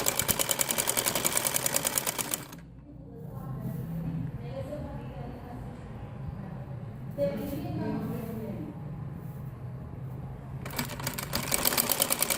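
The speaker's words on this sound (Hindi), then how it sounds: "फोल्ड करने के बाद आपने इतना इसको मोड़ कर सिलाई लगा देना" A sewing machine stitches down the folded hem of a salwar, running in fast, close, rapid-fire bursts at the start and end, with a quieter stretch of handling and someone talking in between.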